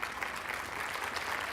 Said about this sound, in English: Let's give a round of applause to our DJ